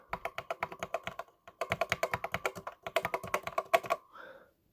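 Keys clack on an old Macintosh 128K computer keyboard in quick, crisp bursts, with a brief pause midway and a slight ping, close and fairly quiet, without voices.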